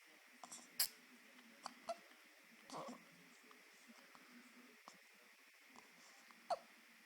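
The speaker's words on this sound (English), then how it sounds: "He just got done eating and he has some hiccups." A baby boy hiccups after feeding, several short soft hiccups scattered across a quiet indoor room, with faint speech-like sounds in the background.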